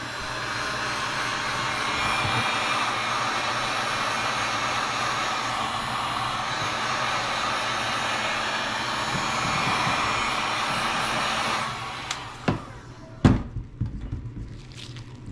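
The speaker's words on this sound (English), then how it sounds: "take my heat gun and just apply a little bit of heat" Heat gun blowing hot air while a hood louver is fitted on a third-generation Camaro, a steady close whooshing hiss that stops near the end, followed by a few sharp knocks and handling sounds.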